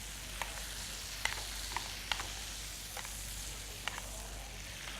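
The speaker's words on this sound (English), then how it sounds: "Now all I'm going to do is just baste that cod with a little bit of my butter now." Cod basted with butter in a hot pan at a food festival cooking demonstration in Exeter: a steady, quiet sizzle with a few light spoon clicks spaced through it, heard alone.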